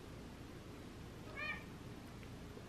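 A single short meow from a pet cat indoors, clear against a quiet, hissy room background, with no voices.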